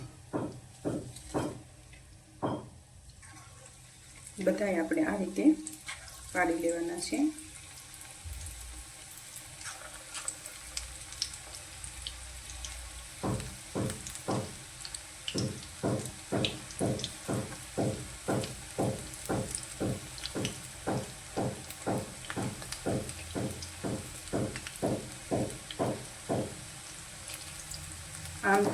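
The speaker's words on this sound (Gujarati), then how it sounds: "હવે આપણે આવી જ રીતે બીજા ભજીયા તળી લેવાના છે" Bhajiya made from bottle gourd and drumstick leaves fry in hot oil with a soft, steady sizzle, punctuated by a rapid series of rhythmic scraping or tapping strokes, while someone speaks briefly.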